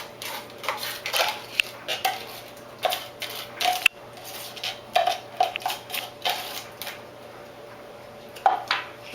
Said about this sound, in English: you have to mix it in to get an interesting looking substance